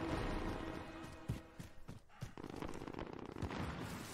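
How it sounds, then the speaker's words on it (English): Scattered gunfire in Call of Duty: Warzone, a mix of distant pops and a few sharper shots over steady background noise, with no talking. "I hear some gunfire over here."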